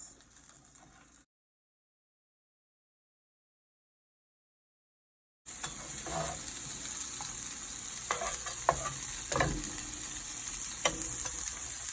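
A Jamaican-style French toast omelette with a slice of cheese folded inside sizzles in a pan. The sizzle cuts out briefly, then returns as a steady, close, crackling fry with occasional sharper pops.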